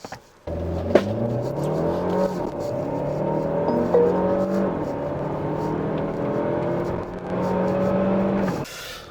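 A Mercedes-Benz GLE350e 4Matic Coupe plug-in hybrid launches hard from a standstill, its engine note rising steadily through several gear changes, loud and continuous from inside the car, with no speech.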